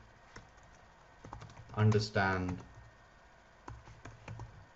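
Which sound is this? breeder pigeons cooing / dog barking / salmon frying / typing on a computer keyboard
typing on a computer keyboard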